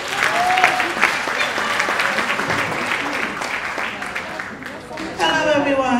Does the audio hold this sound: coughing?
no